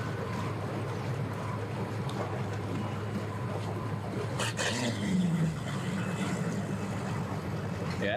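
A motorboat comes in at a busy boat ramp, its engine a steady, droning rumble under constant outdoor water and wind noise, with a brief rising engine tone midway.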